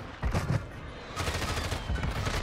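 Bursts of gunfire from the Warzone video game, likely from a Raal machine gun: rapid crackling volleys that run in uneven stretches and stay fairly close and loud, with no talk over them.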